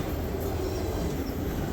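A freight train rolling past, including an auto rack car, giving a loud, continuous rumble of wheels on rails with no clear clicks or horn.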